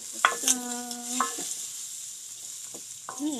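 Butter melts and sizzles in a pan while tofu sisig is being cooked, giving a faint, steady hiss with a few brief squeaky tones and light clinks near the start.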